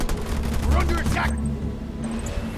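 Rapid gunfire and explosive bursts crash through a base attack in the Halo Wars 2 strategy game, a dense fusillade with some voice chatter mixed in and a few high electronic blips trailing off near the end.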